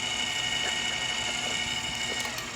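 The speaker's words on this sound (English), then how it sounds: "You kind of get that gearbox sound that you don't get from the AC motor, but it's still pretty quiet." A Turin SK40 conical burr coffee grinder runs steadily, giving a continuous mechanical whir with a geared, ratcheting texture from its gearbox. The sound is close, fairly quiet and unbroken, with no talking.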